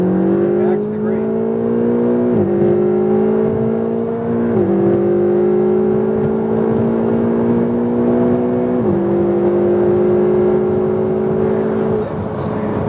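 A turbocharged Ferrari 488 accelerates on a race track, its engine note rising steadily through the gears with brief dips at each shift, loud and close throughout.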